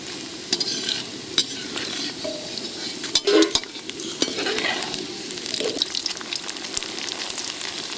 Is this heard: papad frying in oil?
yes